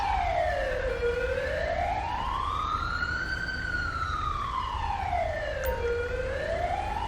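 Ambulance siren in the video game GTA 5, a loud, steady wailing tone that sweeps slowly up and down over about seven seconds, heard alone over faint road rumble with no talk.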